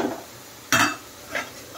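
A lid clatters onto a metal pan of cooking rohu fish masala, one bright clank followed by a fainter second knock, close by over a soft sizzle, with no talking.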